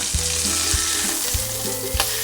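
Food sizzles steadily in a hot pan, with a soft, even frying hiss and a few dull knocks and taps from the cookware.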